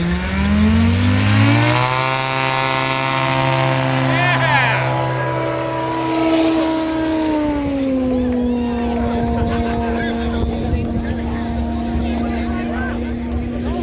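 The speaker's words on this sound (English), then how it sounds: "here comes Steve in the 300 horse Yamaha turbocharged engine." A STOL competition aircraft with a 300-horsepower turbocharged Yamaha engine at Sun 'n Fun climbs steadily in pitch as it powers up, then settles into a sustained, buzzing, harmonic-rich drone heard from fairly close.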